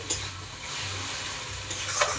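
Fish coated in spice paste fries in hot oil in a pan, giving a steady close sizzle with a few soft stirring scrapes and no talk.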